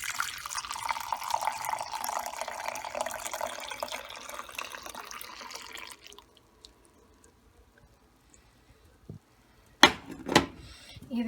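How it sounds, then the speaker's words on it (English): Rosemary tea poured slowly through a large hand-held strainer gives a steady, moderately loud liquid splash for about six seconds, then stops, followed by a few brief clinks and drips near the end. "slowly pour the tea"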